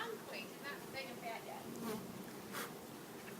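Honeybees buzz and drone around a beekeeper at an open hive outdoors, a continuous close hum with individual bees swelling louder as they fly past the microphone.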